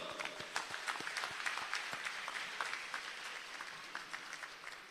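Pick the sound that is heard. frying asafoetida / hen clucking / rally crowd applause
rally crowd applause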